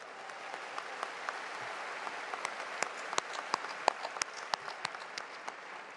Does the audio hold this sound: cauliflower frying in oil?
no